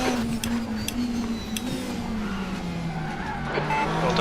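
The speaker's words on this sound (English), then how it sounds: "That's just the sound of the DTM 2013 Mercedes, man." Engine of a DTM 2013 Mercedes race car in a sim racing game at Hockenheim, a loud, steady high-revving whine that rises and falls slightly, with faint tyre squeal and no talk over it.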